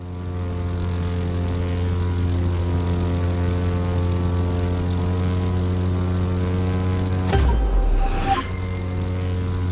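Low-flying propeller airplane in The Crew 2, a steady loud droning hum with strong harmonic bands, briefly swelling into a rushing burst near the end before settling back.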